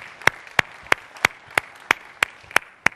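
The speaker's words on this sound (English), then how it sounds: "Give yourselves a round of applause." Nine sharp, evenly spaced hand claps in a steady slow rhythm, like an audience clapping in unison at a symposium opening, each crisp and close with quiet gaps between.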